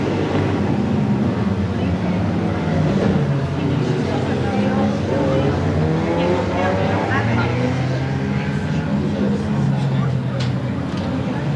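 Race cars circle the track at Seekonk Speedway with a field of 22 cars, their engines roaring in a dense continuous wash with rising and falling whines as they pass, under a crowd's din and a voice on the loudspeaker.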